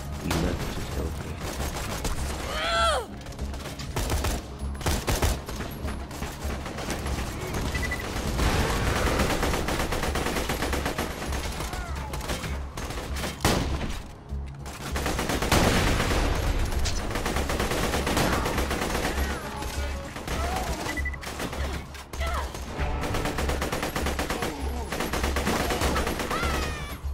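Rapid gunfire from weapons in the video game Borderlands 2, dense bursts of shots running almost continuously and loudly, with brief lulls and heavy low booms throughout.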